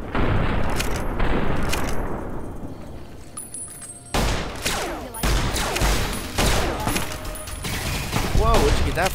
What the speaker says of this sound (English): Let's go ahead and see if we can shoot it out of her hand.